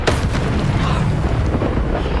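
A Reducto blasting spell bursts in the Hogwarts Legacy video game, a loud, dense explosive boom with a sharp onset that rolls on as rumbling debris throughout.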